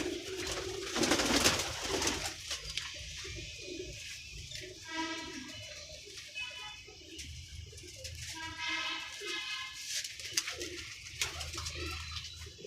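Young pigeons coo in soft, repeated throaty bursts, close by, with some rustling and handling noise and an occasional louder flutter.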